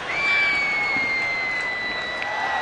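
A baseball fan club cheers in the stands at a Kansas City–Baltimore game. Steady, distant crowd noise is crossed by a long, sustained whistle or horn tone, with no clear talk over it.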